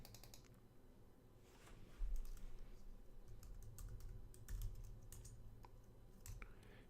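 Someone types a passphrase on a computer keyboard, a run of soft irregular key clicks over several seconds, close but quiet.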